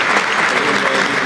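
Dense, loud applause from an award ceremony crowd at Castel Nuovo in Naples, steady clapping throughout with no pauses.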